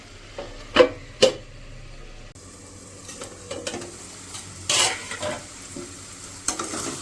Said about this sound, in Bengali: সর্ষে বাটা তো দিলাম একটু, 2 মিনিট একটু ফুটিয়ে নেবো